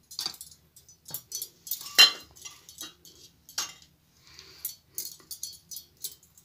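A spoon scoops spice masala into whole red chillies for pickle, giving a run of small, close clinks and scrapes in an irregular rhythm with quiet gaps, and no talk.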